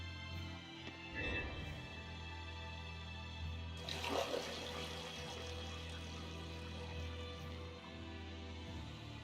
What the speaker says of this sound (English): Whoa! A water bridge!